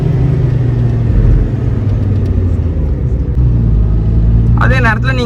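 A Maruti 800 with its original naturally aspirated engine pulls hard in third gear, a steady loud engine drone and road rumble running throughout, heard from inside the car, with a brief chirp near the end.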